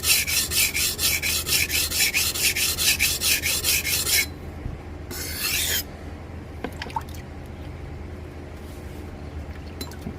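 A cleaver being sharpened on a whetstone gives a rapid run of rhythmic rasping strokes for about four seconds, followed by one more brief grinding pass and then quiet with faint handling clicks and drips.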